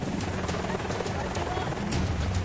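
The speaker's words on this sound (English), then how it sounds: "the next pair to board the chopper" A helicopter runs steadily and loudly throughout, its rotor chop and turbine whine filling the scene at a survival school before a jump, with voices faintly mixed in.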